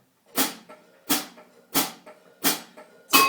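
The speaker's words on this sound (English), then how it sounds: "Normally, on the gankogui, the rhythm sounds like this." The Agbadza gankogui bell pattern is played on a drumset ride cymbal: five bright metallic strikes at an even pace, each ringing briefly before the next, clear and alone.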